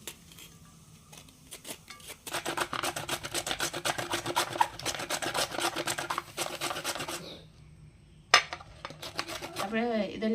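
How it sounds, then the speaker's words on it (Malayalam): Vegetables are chopped in a home kitchen with a run of rapid, dense knife taps and rasping strokes lasting several seconds, followed by a few scattered clicks and some nearby speech. "ആദ്യം നമുക്കേ ഈ പച്ചക്കറികളൊന്ന് അരിഞ്ഞെടുക്കാം"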